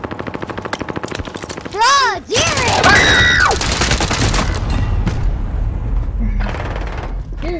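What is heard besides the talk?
assault rifle gunfire in Call of Duty video game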